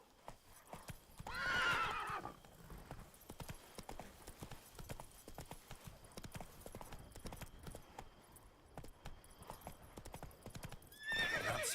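Roach, a horse in The Witcher 3 Blood and Wine, trots with steady clip-clopping hooves and gives a neigh at the start and again at the end, with faint talk mixed in.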